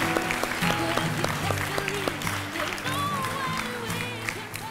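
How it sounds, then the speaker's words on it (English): An audience at a talk gives a round of applause, a dense patter of clapping heard near and steady for several seconds, with a voice speaking faintly over it. "Let's give him a round of applause."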